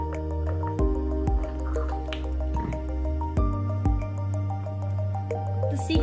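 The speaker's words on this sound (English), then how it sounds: "We're gonna add about a tablespoon of it as well, and then stir it into the solution." Glycerin is stirred into a dish soap bubble solution, giving close, wet squishing and dripping sounds with sustained ringing tones and small clinks, steady with a few sharp taps, alone without talk.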